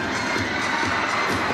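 A basketball crowd in Pampanga roars and cheers loudly and continuously, a dense wall of shouting voices filling the arena.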